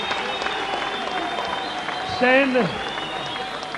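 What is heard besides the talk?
crowd applause for fighter Stan Longinidis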